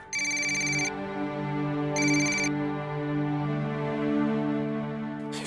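A phone ringtone trills in two bright bursts, one long and one short, over a steady tonal background with no voices.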